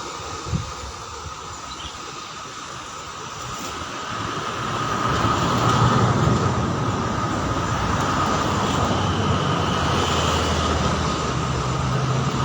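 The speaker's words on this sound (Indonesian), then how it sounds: "sangat jelas terlihat untuk pesawat yang take off maupun landing" An airplane taking off or landing on an airport runway, heard from a public viewing spot, as a loud broadband engine roar that swells after a few seconds and then holds steady, rumbling and hissing.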